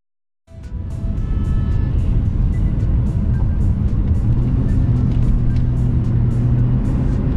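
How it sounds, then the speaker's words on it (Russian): A BMW 7 Series E65 engine starts after a brief silence in a garage, then settles into a loud, steady, deep idle rumble that carries on unbroken. "Мотор здесь, конечно, работает с таким звуком просто, но чувствуется мощь"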